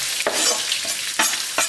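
Mustard seeds and bay leaf frying with onions in a pan, giving a dense crackling sizzle broken by a few quick bursts of stirring, close up with no talk.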